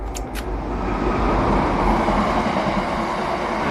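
A heavy freight train rumbles past at close range, a loud steady roar with rattling underneath and no letup.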